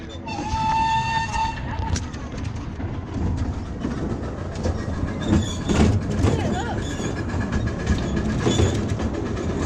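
A train passes with a horn blast at the start, then rumbling wheels and a rhythmic clatter of rail cars going by close and loud. Voices break in briefly over the noise.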